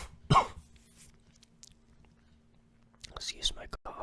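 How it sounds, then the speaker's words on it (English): A single sharp cough from a person with a lingering illness, near and abrupt at the start, followed by quiet room tone and then soft whispered talk and mouth noises. "Excuse my coughs again"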